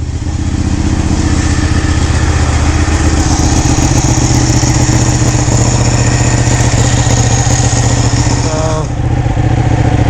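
A Ducati Panigale 1199 motorcycle engine idles close by, giving a loud, continuous, steady rumble with a faint mechanical clatter, and no voices are heard.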